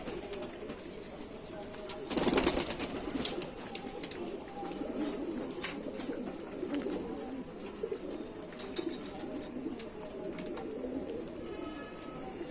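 Rampuri pigeons cooing in a loft, soft repeated throaty coos with a brief burst of wing flapping near the start, close and steady against a low background murmur.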